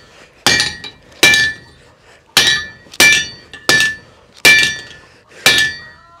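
Seven sharp metallic hammer blows ring out at a slow, uneven pace as a lug is flattened on an anvil, each strike clanging with a bright ringing tail.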